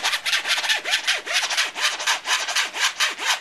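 Vinyl-mode scratching on an American Audio VMS2 DJ controller produces quick rhythmic back-and-forth swishes with pitch sweeps, repeating steadily at close range with no talking.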